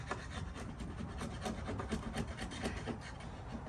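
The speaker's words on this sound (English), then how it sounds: "just get rid of all this excess glue so it doesn't get in your way, okay? And it'll just scrape right off with a chisel" A chisel scrapes excess dried glue off modular cabinet wood in rapid, rhythmic close strokes, a gritty rasping that repeats steadily several times per second with no talking.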